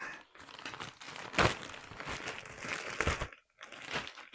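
Parcel packaging being pulled open close up, with loud crinkling and crunching of plastic and paper in irregular bursts, plus brief tearing, over a few seconds with short pauses.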